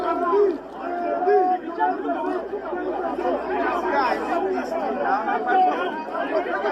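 Dense crowd chatter at a political protest over election results: many overlapping voices, shouts and calls forming a constant loud babble close around.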